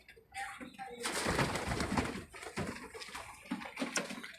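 Pigeons coo softly and repeatedly in a loft, with wing flutters and scuffling close by, the murmuring calls layered over a busy background.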